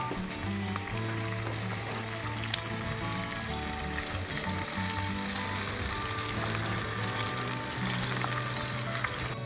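Green peas sizzle and crackle in a hot pan, a steady, loud frying hiss with occasional stirring scrapes throughout.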